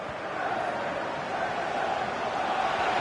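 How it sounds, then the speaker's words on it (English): A stadium crowd in a football video game's career mode roars in a continuous, dense wash of cheering that holds steady throughout. "The crowd encouraging him to take it on."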